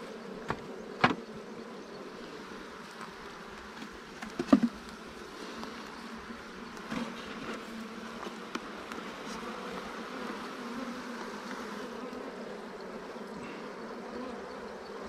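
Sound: honeybees buzzing during beehive inspection

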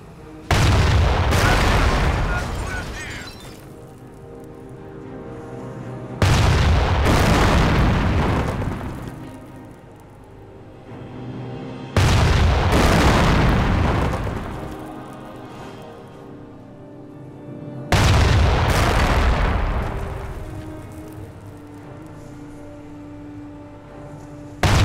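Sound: cannon fire in a video game

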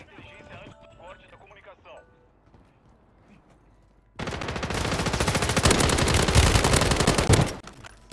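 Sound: gunfire in the video game Warzone 2.0

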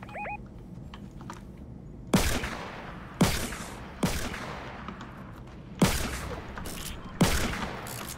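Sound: shotgun gunfire in a video game arena

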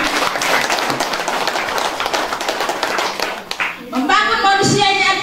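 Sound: audience clapping at campaign rally

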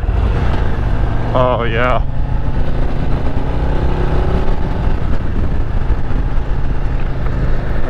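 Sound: Harley-Davidson motorcycle engine rumbling at idle

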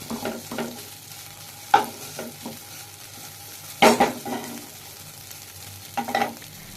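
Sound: stirring and mixing mashed potato filling with spices

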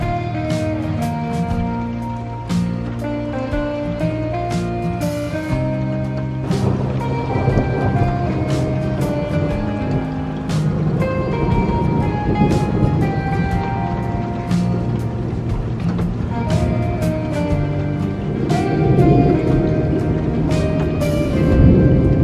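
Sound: thunderstorm with heavy rain

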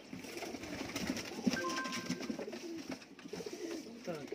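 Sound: Sialkoti pigeons cooing

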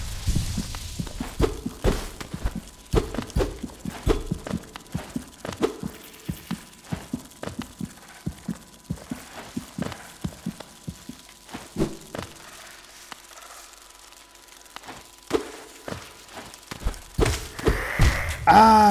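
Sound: heartbeat in Hollow Knight video game

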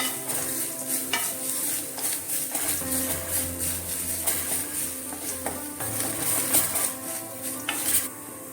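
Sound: roasting whole spices in a pan

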